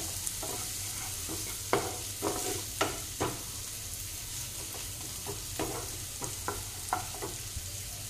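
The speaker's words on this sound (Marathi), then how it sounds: "यामध्ये आपला जो कांदा टाकलेला आहे तो छानपैकी असं ब्राऊन होऊन द्यायचा." Browning onions sizzle steadily in a pan for a hotel-style cashew masala, with a constant frying hiss broken by repeated short stirring scrapes and clinks of a spoon, close and alone without talk.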